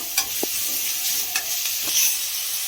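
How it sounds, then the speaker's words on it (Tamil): Onions sizzle steadily in a hot pan, a continuous hissing fry with a few soft clinks of a spoon stirring. "இது வெங்காயம் வதக்கட்டும்."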